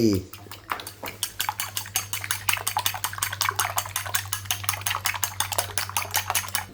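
Eggs and seasoning beaten in a bowl with a utensil, a steady fast rhythm of close, sharp clinking taps that keeps going without a break, over a low steady hum.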